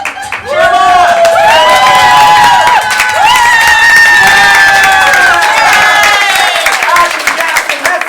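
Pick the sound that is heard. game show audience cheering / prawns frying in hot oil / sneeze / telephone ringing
game show audience cheering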